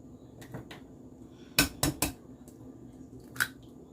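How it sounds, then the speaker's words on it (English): Eggs being cracked against a bowl for homemade meatloaf, a quick cluster of three sharp taps followed by a single later tap, fairly faint in a quiet kitchen. "I'm going to go ahead and break these eggs"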